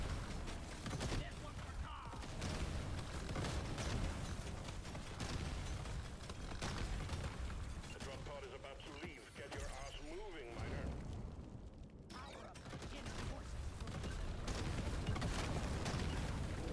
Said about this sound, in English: This explosion radius is crazy out of control right now.